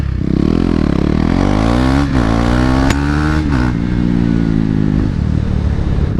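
KTM 390 Duke single-cylinder engine under way, loud and close, revving up and down through gear changes with a steady raspy drone and brief dips between shifts.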